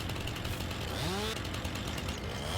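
A chainsaw cuts through a log in Farming Simulator 22, a loud and steady engine drone held throughout with a brief rising whine partway through.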